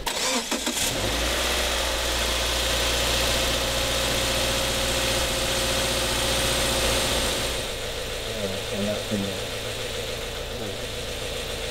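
A car engine starts and idles steadily while air is bled from the coolant system, a loud close rumble that settles into a lower, even idle.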